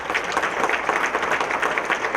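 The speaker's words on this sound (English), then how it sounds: "Round of applause for you guys." A room full of people at a business appreciation breakfast applauds, a dense, even wash of clapping sustained throughout at full strength.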